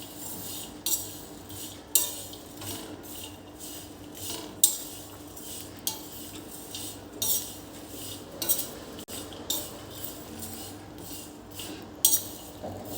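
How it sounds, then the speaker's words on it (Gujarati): Spoon stirring about a teaspoon of cumin seeds dry-roasting in a hot pan, with repeated metallic scrapes and clinks in an irregular rhythm, up close and without talk. "હવે એને આપણે આ રીતે થોડીક વાર હલાવીશું એટલે એ પણ શેકાઈ જશે"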